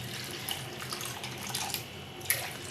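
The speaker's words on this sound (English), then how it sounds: "So I'm going to pour in drinking water into this pot." Drinking water pours into a cooking pot in a steady, splashing stream, close and moderately loud, with no speech.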